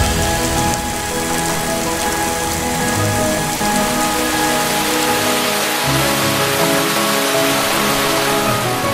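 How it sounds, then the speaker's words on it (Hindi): Heavy rain pours down steadily in Cherrapunji, India, a dense continuous hiss of drops striking surfaces close by, with no voices. "पानी अब भी यहां बहुत बरसता है।"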